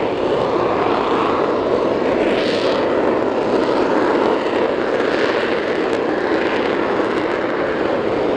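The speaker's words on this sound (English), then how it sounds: "watching all the aircraft take off and land for the Bournemouth Air Festival 2023" Aircraft engine noise at Hurn Airport during the Bournemouth Air Festival 2023, a steady loud roar that holds through the whole stretch with gentle swells as planes pass, and no voices.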